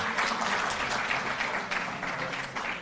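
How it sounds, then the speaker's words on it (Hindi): Crowd applause rolls through an award ceremony honoring Olympic athletes and their coaches, steady and fairly loud, many hands clapping without a break. "जोरदार ताली बजती रहें"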